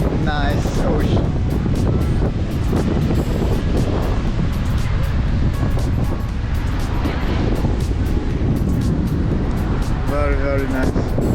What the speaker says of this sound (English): It's very windy here in Riccione.